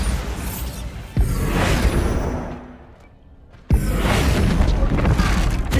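Bombarda spell explosions in Hogwarts Legacy. Two sharp, loud booms are each followed by a long roaring, rumbling wash of debris, with a quieter dip between them.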